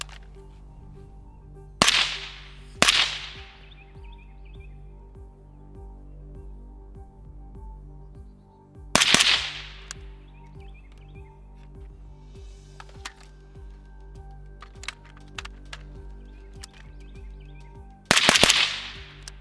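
A Dillon DRC556 suppressed 5.56 rifle fires several sharp, close reports: a quick pair near the start, a single shot mid-way and another near the end, each a crisp crack over a low steady background hum.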